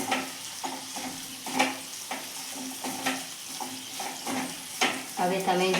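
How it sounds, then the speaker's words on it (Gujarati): A spoon scrapes and stirs through sizzling ivy gourd (tindora) in a pan, with repeated strokes over a steady frying hiss. "હવે આપણે એને મિક્સ કરી લઈશું"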